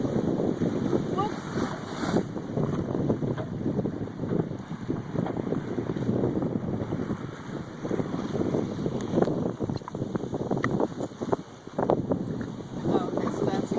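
Wind roars across the microphone aboard a sailboat in the British Virgin Islands, a loud continuous rushing that buffets throughout under scattered voices.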